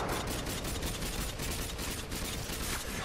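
Rapid, continuous AK-47 fire in the Modern Warfare 2 video game, a dense unbroken fusillade of loud close shots with no pauses across the whole stretch.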